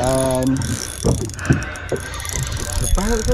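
Rapid ratcheting clicks from a fishing reel's drag buzz along steadily as a Spanish mackerel runs while jigging, with a voice speaking briefly over the mechanical chatter.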